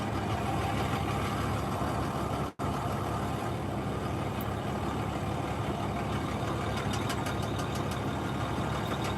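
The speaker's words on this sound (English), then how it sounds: "Sounds like I lost the lifter" A truck engine idles steadily with a failed lifter, its low, even rumble running unbroken apart from one brief dropout near the start.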